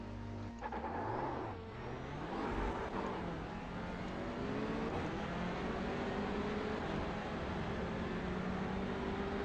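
A TCR race car in iRacing at the Nurburgring, with a continuous engine drone that climbs and shifts in pitch as it revs and accelerates, steady and fairly loud.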